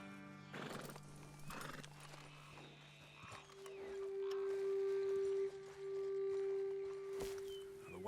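Horses in the Red Dead Redemption 2 video game clip-clop along and neigh, with a long whinny standing out over steady hoofbeats and outdoor ambience.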